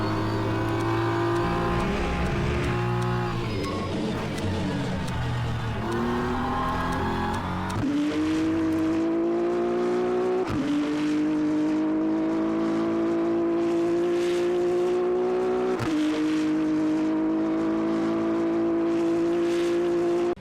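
BMW M4 GT3 race car lapping Interlagos in the Le Mans Ultimate racing game, its engine droning steadily with repeated rising revs and sharp gear-shift drops, loud and continuous with no talk.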